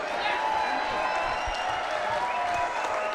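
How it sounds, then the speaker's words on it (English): Crowd applause and cheering for both boxers in the ring after a knockout finish at a boxing match, a steady wash of clapping with a music bed underneath. "a big round of applause for both of the boxers in this ring"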